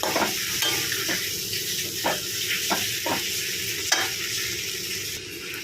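Okra goes into a hot pan of prepared masala and is stirred, a steady sizzle broken by repeated scraping and clattering strokes of a spoon against the pan, close up with no voices.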